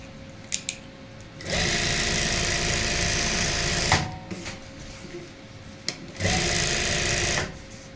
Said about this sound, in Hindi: और यहाँ पे नीचे से लगाएंगे सिलाई।